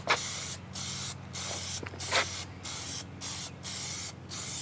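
Plasti Dip aerosol hisses in repeated bursts as it is sprayed onto car rims, several separate sprays of about half a second each with short gaps between them, over a low steady hum.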